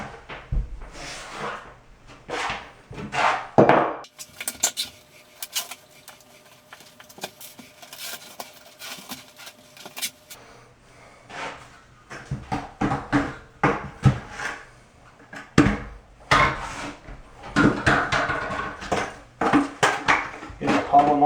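Shower floor tiles are lifted and pressed into polymer-modified thinset, giving scattered hard clacks, scrapes and taps of tile and trowel at close range, with quieter stretches between bursts of handling.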